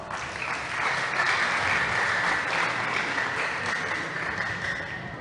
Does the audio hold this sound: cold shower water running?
no